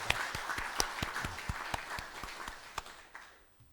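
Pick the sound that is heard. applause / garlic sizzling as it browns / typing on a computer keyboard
applause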